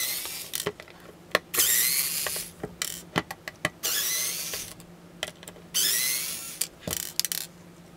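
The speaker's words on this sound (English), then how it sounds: "I'm going to unbolt this outer casing, and basically you do that by removing these screws" A screwdriver backs screws out of the outer casing on an older Subaru steering wheel, giving short squeaky ratcheting bursts and sharp clicks in a close, quiet space.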